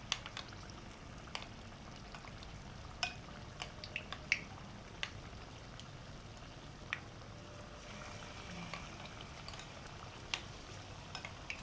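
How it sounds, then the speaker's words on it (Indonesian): Cassava pieces frying in hot oil over medium heat make a faint, steady bubbling sizzle, with scattered soft pops and crackles rising above the low hiss. "Ini minyaknya sudah panas, kita goreng dengan api sedang sobat-sobat."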